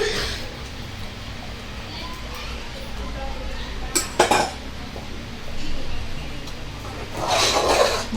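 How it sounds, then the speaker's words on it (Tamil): A spoon stirs thick sakkarai pongal, sweet rice cooked with jaggery syrup, in a pot, giving soft scraping and a few sharp metallic clinks, with faint background voices and household noise. "நல்லா இதை கிண்டி விட்டுக்கிறோம்."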